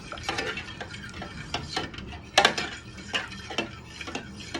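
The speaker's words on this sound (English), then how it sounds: "So give it a good stir." Beef stroganoff is stirred in a pan, a series of light metallic clinks and scrapes from a utensil against the pan in an uneven rhythm, close and fairly quiet with no talking.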